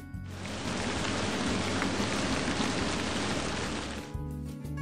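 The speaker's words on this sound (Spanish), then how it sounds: "como por ejemplo un efecto de lluvia" Dense, steady hiss of rainfall, loud and even throughout, starting and stopping abruptly like a looped effect.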